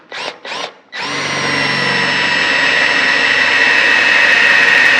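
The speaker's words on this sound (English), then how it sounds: "I'm going to start and drill a 1/4-inch pilot hole" Power drill boring a 1/4-inch pilot hole for a pipe notcher install in a garage: two short whirring blips, then a loud, steady high whine that holds for several seconds close by.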